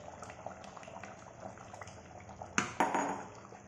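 Dried fish drops into a pot of simmering banga soup, bringing two sharp splashy clatters near the end over a low bubbling and faint kitchen clinks.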